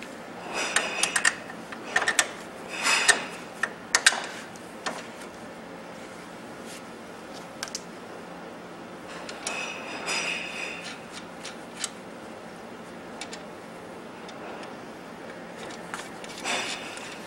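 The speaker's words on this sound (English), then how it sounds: "snug them up with an air gun or a standard ratchet" A standard ratchet snugging the lower strut mounting bolts and nuts on a 2002 Dodge Neon, with close clusters of quick metallic clicking and clanks coming in bursts between quieter pauses and no speech.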